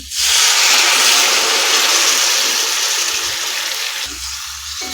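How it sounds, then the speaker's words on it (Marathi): Water is poured into bitter gourd masala in a hot pan, giving a loud, broad hissing rush that swells at once, holds for about four seconds and then eases off. "याच्यामध्ये कारलं शिजण्यासाठी पाणी घालायचं आहे"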